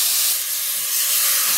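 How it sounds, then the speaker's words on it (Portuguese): Beef steaks for onion-smothered steak hiss and sizzle while lining the bottom of a hot pan. The sizzle is a loud, steady, close sputter with no pauses. "Vamos pôr todos os bifes na nossa panela"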